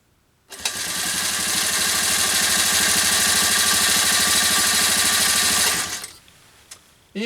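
A Singer 96K41 light industrial sewing machine stitching a quilt, running without feed dogs: a loud, close, fast mechanical whir that starts abruptly, holds steady for about five seconds, then stops.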